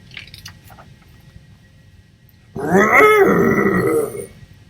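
A human voice imitates a bear's growl in one loud, rough, drawn-out snarl that rises and falls for about a second and a half after a quiet pause.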